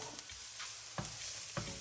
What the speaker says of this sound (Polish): Teraz jest czas, żeby dorzucić czosnek. Ja go będę smażyć tutaj